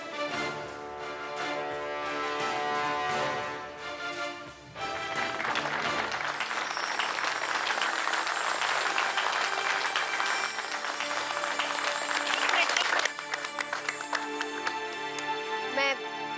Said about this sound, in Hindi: मैं अकेली ही इन तालियों की हकदार नहीं हूं।